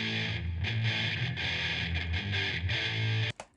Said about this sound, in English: Electric guitar.